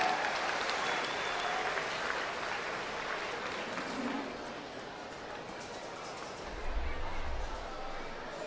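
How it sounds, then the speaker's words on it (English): Audience clapping at an evening youth livestock show in the Alachua County youth fair, steady moderate applause filling the whole stretch, fairly distant and diffuse with a low rumble near the end. "Let's have a round of applause for all of our Class 2 exhibitors."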